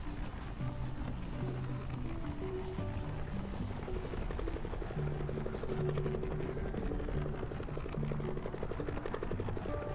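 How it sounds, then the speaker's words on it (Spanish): Helicopter flying in the video game Tchia, a steady whirring rotor drone with low engine rumble, mixed with game music and faint ambient surf, continuous and fairly close. "Ah, mira, ahí está el helicóptero."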